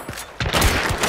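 A short burst of rapid gunfire in the video game Hunt Showdown, several sharp close shots cracking in quick succession and ringing out over about a second.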